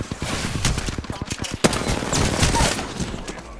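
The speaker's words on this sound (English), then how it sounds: "Oh, it's getting shot out there." Gunfire rattles through an Apex Legends match as dense, rapid automatic bursts and overlapping shots. The firing is loud and nearly continuous, with game ambience underneath.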